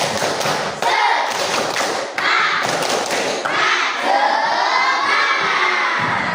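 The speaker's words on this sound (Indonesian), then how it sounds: "mari kita tepuk semangat dulu ya 3 kali" A fifth-grade primary school class performs a patterned spirit clap, with bursts of thumping claps and taps amid shouting children's voices and cheering, loud and close in a classroom.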